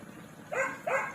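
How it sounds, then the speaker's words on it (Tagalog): Pet dog barking nearby, two quick sharp barks in close succession over a quiet outdoor background. "aso pala ma maingay talaga yung alaga namin ng aso"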